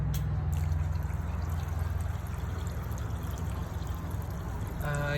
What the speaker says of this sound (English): this is just a fountain that I buried in rocks. So I got water moving through rocks